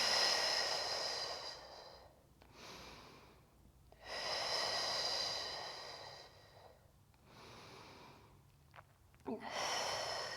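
Slow, deep breaths during a yoga workout of squats and planks: long airy inhales and exhales, four or so cycles with short pauses between, soft and close, no talking.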